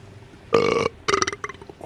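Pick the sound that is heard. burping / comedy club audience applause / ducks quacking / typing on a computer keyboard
burping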